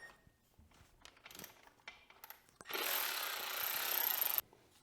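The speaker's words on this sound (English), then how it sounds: "the next thing we're going to do is take off the relay arm. And this is a number 17 socket." Work on the rear shock linkage of a Yamaha YZ dirt bike: scattered metallic clinks and tool handling, then a loud, steady burst of about two seconds, like a powered socket driving out the relay arm bolt, that stops abruptly.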